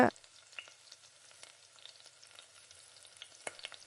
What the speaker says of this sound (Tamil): பாத்திரத்தில் ஒட்டாத அளவுக்கு நல்லா இஞ்சி பூண்டை வந்து நல்லா எண்ணெயிலே இந்த மாதிரி வதக்கி விட்டுக்கோங்க